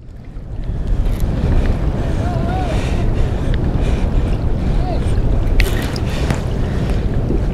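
Strong wind roars over a small fishing boat at sea during a halibut and squid trip, a steady, close buffeting rush with faint water wash beneath and no clear talk.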